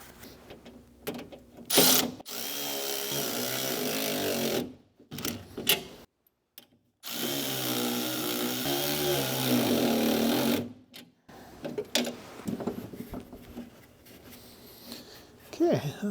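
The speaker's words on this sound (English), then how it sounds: "Now let me grab a ratchet and I'll buzz those down." A ratchet buzzes bolts down while mounting a voltage regulator on a 1973 Cushman Trackster, in several long mechanical whirring bursts separated by pauses, loud and close, with shorter clicks and handling noises between.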